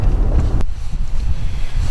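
Strong, steady wind roars across the microphone on a river in Michigan, a loud low rumble that barely lets up, with a brief sharp crackle partway through, on a 58-degree day with spitting rain.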